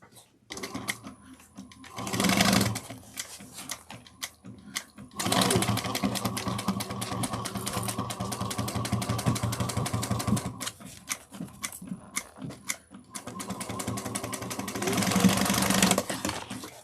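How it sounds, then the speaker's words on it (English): Sewing machine stitching a seam on a fabric train case at a 3/8 inch allowance, running in steady loud bursts with short pauses between runs. "We're going to sew at 3/8 of an inch."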